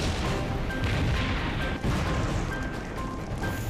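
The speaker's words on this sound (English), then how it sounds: "Smaller explosions repeat throughout the night." Repeated blasts from a burning oil tanker at night, heard as a dense, continuous roar with rumbling bursts and crackling impacts, loud and sustained throughout.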